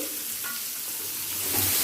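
Chopped onion fries in oil with a bay leaf, giving a steady close sizzle that grows slightly louder toward the end.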